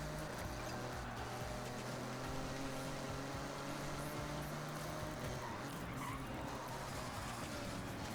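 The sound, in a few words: cars braking and skidding in Forza Horizon video game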